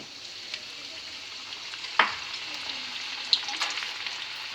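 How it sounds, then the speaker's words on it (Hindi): Chana dal deep frying in hot oil for homemade nimko, a quiet steady bubbling hiss with a couple of sharp metallic scrapes and clinks of stirring, close by and without speech. "चने की दाल को इसमें डाल के फ्राई कर लेते हैं"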